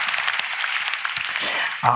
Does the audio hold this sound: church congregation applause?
yes